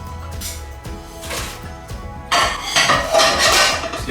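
A lid lifted off a pot, then dumplings dropped into boiling water, a metallic clatter followed by louder splashing and bubbling, close and fairly loud.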